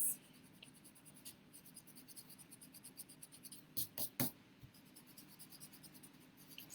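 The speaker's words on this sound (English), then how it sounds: "So I'm just erasing, erase, erase, nice and gentle." An eraser rubs gently over pencil lines on paper in quick, quiet, repeated strokes, a soft scratchy rhythm that continues steadily, with a few slightly louder brushes partway through.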